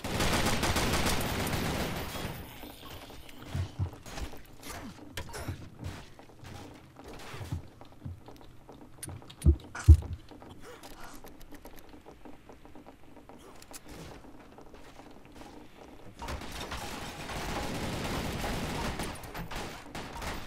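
Gunfire in the zombie shooter Zombie Panic Source: a dense opening burst, then scattered sharp shots at irregular intervals, some distant and some closer, before another rapid volley near the end.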